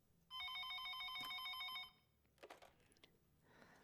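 A telephone bell rings in a bright, rapid electronic trill for about a second and a half during a film scene, then stops, leaving faint room noise and a few soft knocks.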